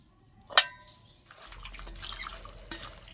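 Cut bitter gourd pieces are washed in water, with one sharp drip near the start followed by soft, quiet sloshing and splashing.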